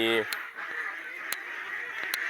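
Laying ducks at their sleeping place give a few quacks, with a sharp honk-like call at the start followed by brief clicks and scattered bird sounds, fairly close.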